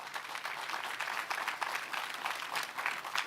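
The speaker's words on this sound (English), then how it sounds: "Let's clap for them once again." A brief burst of applause at a justice suite launch event, a crowd clapping in a quick, uneven patter that stays fairly faint and distant.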